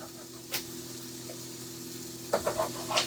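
Sausage frying in a pan gives a low, steady sizzle with a few soft clicks and pops, then a brief cluster of louder crackles near the end.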